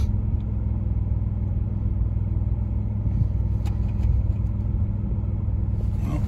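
A 2000 Chevrolet Camaro engine cranking and then running with a slight stumble, a low, steady rumble close by with faint clattering and no talk over it.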